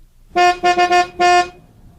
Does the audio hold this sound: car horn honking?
yes